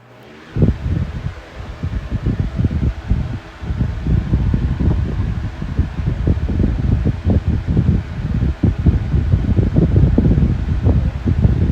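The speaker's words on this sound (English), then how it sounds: "This fan blows a crap load of air for a 12-inch fan" A powerful 12-inch TPI electric fan runs steadily up close, a loud rushing whoosh of air with fluttering, buffeting gusts throughout.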